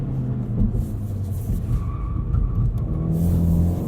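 A 2016 Volkswagen GTI SE with a six-speed manual pulls hard on a test drive, its engine note rising steadily as it accelerates, a loud continuous rumble heard from inside the car.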